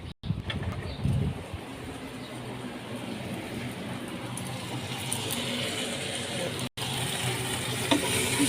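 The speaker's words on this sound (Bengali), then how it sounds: "এমনি ভালো করে কষতেছি" Vegetables stir-fried in spice masala in a pan with no water added, giving a continuous loud sizzle with scraping stirring noises throughout and a brief pause near the end.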